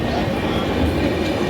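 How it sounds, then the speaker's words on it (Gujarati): A train pulls into a station platform in Mumbai, a steady broad rumble of rolling stock close by, with some people's voices mixed into the noise. "આપણી ટ્રેન આવી ગઈ"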